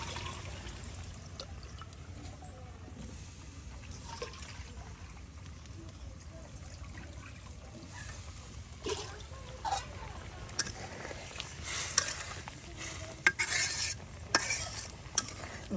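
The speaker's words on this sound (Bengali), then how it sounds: "সে আলু কুচিগুলা সেই তরকারিতে দিয়ে দেওয়া হইতেছে" Chopped potatoes tipped into a simmering prawn curry in a village kitchen and stirred, with soft wet scraping, light sizzle and occasional clinks of the spoon against the pot, growing louder toward the end.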